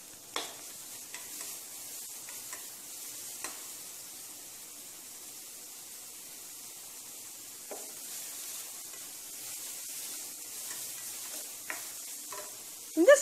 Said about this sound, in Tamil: அதை அந்த நெய்யில் போட்டு கொஞ்சம் வாட்டிக்கணும்